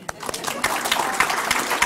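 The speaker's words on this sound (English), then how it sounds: "More applause." Brief applause at a heritage council awards ceremony, a short burst of scattered, distinct claps from a modest audience, fairly close.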